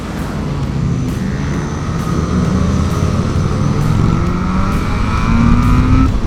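Engines of a large group ride of motorcycles, including a Yamaha XJ 600, heard close as a loud, continuous drone with rising and falling engine tones as the bikes roll along together.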